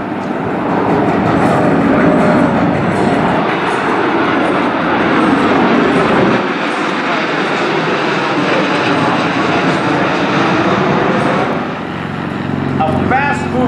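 A Bell Boeing V-22 Osprey tiltrotor aircraft at the 2019 MCAS Miramar airshow gives a loud, continuous roaring drone that holds steady throughout, with an announcer speaking over it.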